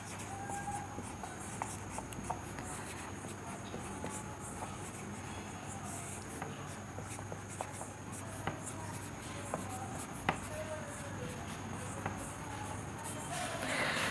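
Pen scratching on paper as notes are written during a Hindi grammar class, a steady faint scribbling texture with small taps, heard alone in a quiet room.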